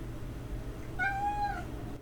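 A pet cat named Leia gives a single drawn-out meow, clear and fairly close, rising then falling over about half a second against quiet room hiss.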